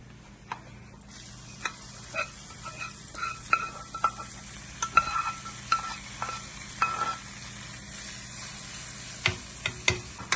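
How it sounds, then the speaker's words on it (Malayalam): Hot tempering stirred into a Kerala ripe mango pulissery curry, a quiet simmer under a series of sharp spoon taps and scrapes against the pot, spaced irregularly, close by. "ഇനി ഈ താളിപ്പ് കറിയിലോട്ട് ചേർത്ത് ഇളക്കാം"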